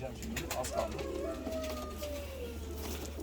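Pigeons coo softly from close by as a box of birds from Kayseri is opened, a few low throaty calls over a constant background hum while people talk nearby.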